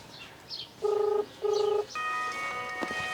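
Two short electronic ring tones sound close together, followed by a brighter sustained tone, as a phone rings on the line over faint background noise.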